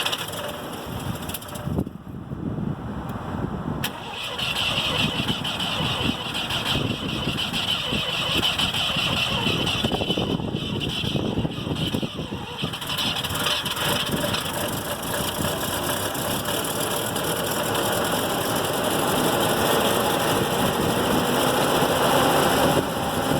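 A 1984 Mazda RX-7 rotary engine cranks and turns over on a cold start in 18-degree weather, then settles into a steady, loud, near idle with a rough throbbing texture that runs the full length.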